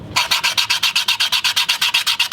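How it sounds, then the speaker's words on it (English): A toy car base is rubbed back and forth on sandpaper laid over MDF, making close, loud, rhythmic rasping strokes at a steady quick pace with no talking. "But for now, just some sandpaper on a piece of MDF."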